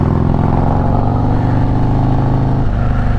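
Harley-Davidson Road King engine revving hard on a wet road at night, its rear tire slipping; a loud, close, rumbling growl with a steady throb that drops in pitch near the end.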